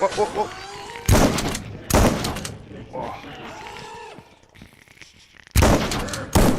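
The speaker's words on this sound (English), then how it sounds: "See how the bullets hit them like they're just hitting a brick wall?" Bullets strike enemies in an Unreal Engine 5 shooter as sharp, heavy gunfire bursts and dull thumping impacts arrive in loud clusters, separated by quieter stretches of game ambience.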